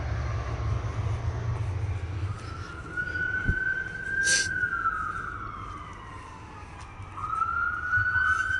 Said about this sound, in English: You hear the ambulance.